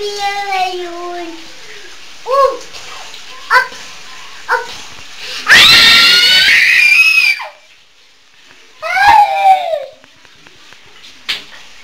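A child screams loudly in long shrill bursts at a home, between shorter yelps and whimpering cries, with someone speaking in the gaps.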